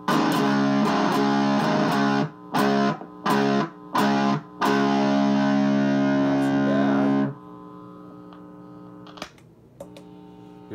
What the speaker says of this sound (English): All right, here's what the jazz chorus sounds like by itself.